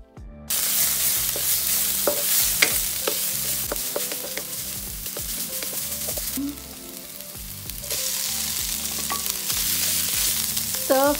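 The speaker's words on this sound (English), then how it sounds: "We are going to stir fry all of these." Pork belly stir-fried in a hot pan, with a steady loud sizzle, close up, and frequent scraping, clinking stirs of the spatula throughout.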